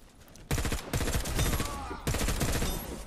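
Rogue MPX SBR Custom gun fire in a video game comes as dense, loud automatic bursts, one short burst followed by a longer sustained volley, with no voice heard.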